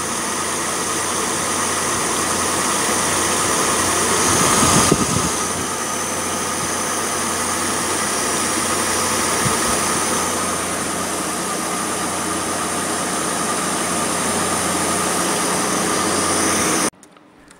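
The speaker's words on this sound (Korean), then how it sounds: "교체하고 나서 한번 시동을 걸어보니까요." A Mercedes M272 engine runs at a steady, even idle after a drive belt replacement, a continuous close drone lasting well over fifteen seconds before cutting off abruptly.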